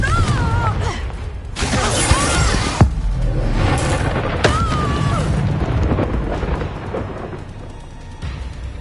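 Loud blasts from the fire-based Confringo spell in Hogwarts Legacy, several booming bursts among the hectic clatter of combat, close and heavy, with a few brief whooshing tones between impacts.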